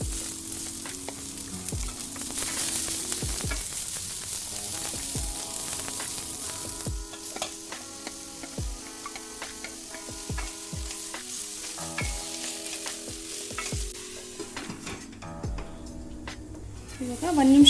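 Onions frying in a little oil with cumin and garlic make a moderate sizzle, punctuated by repeated sharp scraping and tapping of a spoon against the pan. Some background tones and quiet talk sit beside it.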